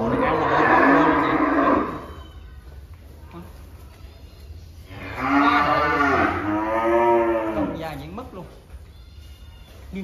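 Cattle on a farm mooing in two long, loud, close calls separated by a quiet pause, with no speech over them.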